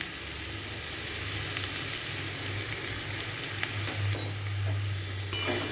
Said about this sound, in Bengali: এটাকে ভালো করে মিশিয়ে নেব।